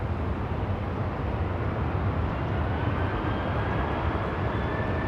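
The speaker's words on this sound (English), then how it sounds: "Look at that, cleared for an immediate takeoff." An airliner taking off at LAX, a broad steady roar of jet engines at full power, loud and constant without breaks, a faint rising whine threading through the rumble.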